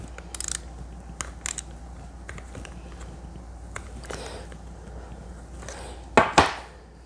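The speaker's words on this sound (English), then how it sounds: "Let's tighten the nuts." Nuts being tightened by hand on a homemade PVC prosthetic, with scattered faint ratcheting clicks and small metallic taps, ending in two louder clacks close by.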